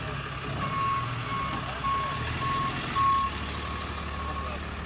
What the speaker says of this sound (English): That was the wrong pickup truck.